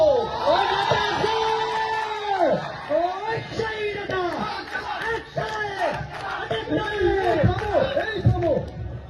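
A large crowd of students at a school and college event chanting slogans in unison, loud rhythmic shouted phrases repeating over and over with cheering and whoops between them.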